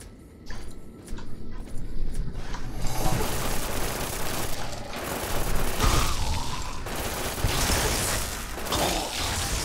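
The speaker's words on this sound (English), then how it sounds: "Who'd have thought the nail gun would be like one of the most useful pistols?" A nail gun fires in Fallout New Vegas, rapid mechanical clattering shots in dense bursts with a few separate clicks before the sustained firing, loud and close, with no talk.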